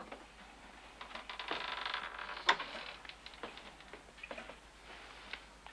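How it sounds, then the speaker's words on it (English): Door slowly creaking open in a tense 1978 film scene, a quiet drawn-out creak with scattered ticks and one sharp click midway, heard alone without talk. "Open the door."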